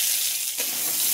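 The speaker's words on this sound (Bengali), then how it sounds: "তেলটা গরম হয়ে গেছে, ফোড়নে রসুন দিব।" Garlic dropped into hot oil in a heated kadai for tempering gives a loud, close, steady hissing sizzle that barely changes, with a brief dip partway through.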